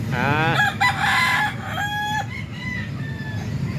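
A rooster crows loudly nearby while other chickens cluck around it, a brief burst of farmyard fowl calls.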